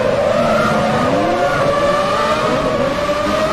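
Race car engine in a racing video game during a spin-out, a steady loud drone with pitch sliding and wavering, plus tire squeal, continuous and close.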